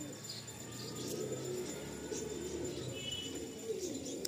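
Original Madrasi pigeons of the Pecha Mukho breed from West Bengal coo in low, soft, repeated murmurs, with faint chirps scattered over a steady background hum.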